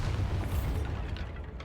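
A Bombarda spell explosion in Hogwarts Legacy booms low and heavy at close range, then fades as its rumble dies away over under two seconds.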